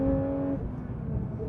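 A Porsche 992 GT3 flat-six with sports exhaust, loud and close on a track, holding a steady droning tone before the pitch drops away into rough engine rumble.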